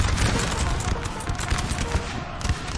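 Musket lines volley in the Napoleon Total War strategy game: a dense, continuous crackle of many muskets firing at once, loud and layered, with low rumbling underneath throughout.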